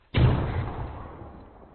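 A frag grenade explodes in a military video game, a single sudden deep boom with a heavy low rumble that decays slowly over more than a second, loud and close, with no talk.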